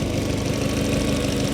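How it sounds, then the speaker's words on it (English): A Cupra R car engine idling close by with an intermittent clicking fault, a steady low rumble with a faint, regular ticking pulsing through it and no voices. "Keeps on making an intermittent clicking noise."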